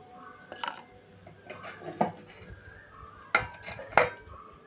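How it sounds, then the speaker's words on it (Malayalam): Fish curry soured with kudampuli being stirred in a pot, with a few sharp metallic clinks of a spoon against the rim standing out over soft scraping and faint simmering. "നമുക്കൊന്നത് ഇളക്കിയിട്ട് നമുക്കിനി ഇത് അടച്ചിട്ട് വേവിക്കാം"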